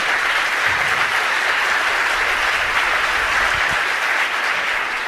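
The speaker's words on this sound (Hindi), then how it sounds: "अब जो लोग समझ गए हो जरा जोरदार तालियां बजा देना" An audience at a religious discourse bursts into vigorous, sustained clapping that stays dense and even throughout, with no voices rising above it.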